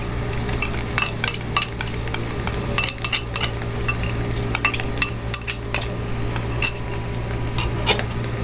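Chopped tomato and ginger stirred into golden-brown onions in a pan for palak paneer, with a spoon scraping and clinking steadily against the metal over a low, constant hum and faint frying.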